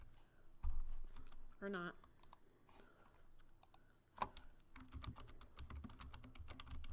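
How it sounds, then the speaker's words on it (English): Fast, crisp keystrokes rattle on a computer keyboard while someone works in Revit software, with a voice briefly speaking between bursts of typing. "I can click here and type"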